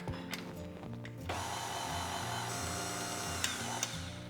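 An electric mixer whirring on slow through cocoa and icing sugar for chocolate frosting, a steady motor hum with a couple of brief clicks and knocks, close and continuous.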